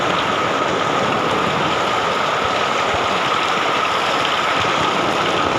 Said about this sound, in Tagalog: Tingnan natin kung kaya ko dito yung agos ng tubig